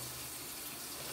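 Water runs from a sink tap during hand washing at a real sink, a steady, faint, hissing stream that continues unbroken and alone.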